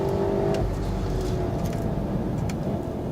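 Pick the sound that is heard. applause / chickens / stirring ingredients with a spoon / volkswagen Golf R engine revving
volkswagen Golf R engine revving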